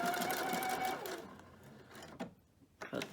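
A PFAFF sewing machine with a button foot stitches a button on, a fast mechanical whirring run that stops and then restarts briefly, close and steady.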